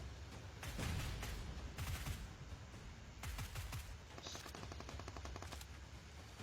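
UMP submachine gun fire rattles in PUBG Mobile, coming as several rapid automatic bursts with short gaps, fairly quiet overall under a steady background hum.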